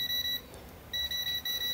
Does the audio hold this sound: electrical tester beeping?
yes